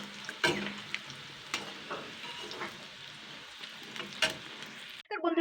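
Chicken pakoras sizzle and crackle steadily in hot frying oil, a dense hiss with scattered pops and a few utensil clinks, ending abruptly in a brief louder rustle.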